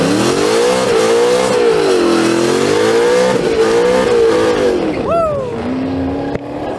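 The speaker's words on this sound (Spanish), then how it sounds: "Primero va el quemón de llanta." A Ford Mustang doing a tire burnout, its engine revving hard and holding a wavering high drone close by, with a rising squeal near the end as the revs drop away.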